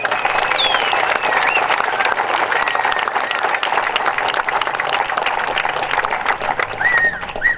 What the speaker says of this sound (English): please hold the applause till the end